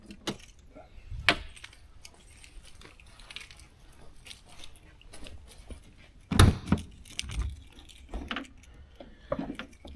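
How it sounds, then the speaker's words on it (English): Car keys for a 1995 Mercedes-Benz jangle and clink in several short, close metallic bursts, with quiet handling sounds between them and no voices. "Grab the keys."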